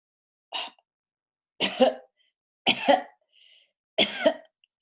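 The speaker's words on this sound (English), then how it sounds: "do you kind of like chase it out by pulling the belly in to cough something up?" Four separate short coughs, close and clear, spaced about a second apart in an otherwise quiet room.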